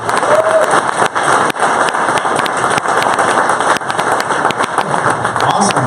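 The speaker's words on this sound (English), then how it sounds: "we like to give them a standing, rousing round of applause" Audience applause and cheering welcoming a speaker onto a stage at an evening startup event, dense sustained clapping from a large crowd filling the whole stretch.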